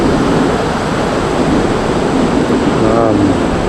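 Countless waterfalls pour around a natural pool, making a loud, constant broadband rush close by, with a brief faint voice near the end.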